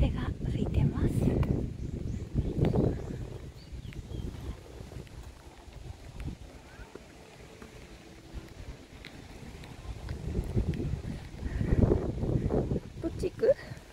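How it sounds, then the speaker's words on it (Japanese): Gusty wind buffets the microphone in the open plaza of Shuri Castle, Okinawa, rising in a few strong rumbling bursts and easing between them, with people talking quietly beneath it. "風が吹いてます。"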